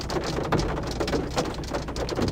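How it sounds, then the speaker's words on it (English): Steady rain falls hard during a Midwest storm chase with a tornado threat, a dense continuous patter of drops on a vehicle while driving a slippery dirt road, loud and unbroken with no talk. "Just to get out of this rain."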